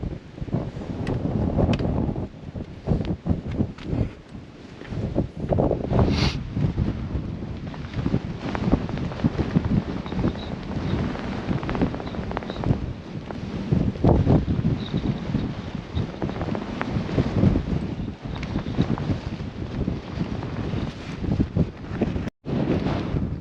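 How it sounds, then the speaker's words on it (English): Strong wind carrying small bits of snow across the summit of Nasudake, an active volcano in Tochigi, Japan, in bad weather: a loud, steady roar buffeting the microphone almost without a break, and nobody speaks. "I'm getting blasted by wind and the small bits of snow"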